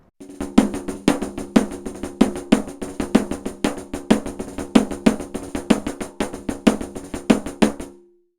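Even, repeated snare drum strokes through a Morsel piezo contact mic with its -24 dB attenuation switch engaged, each close hit sharp and clean with its decay intact and no clipping.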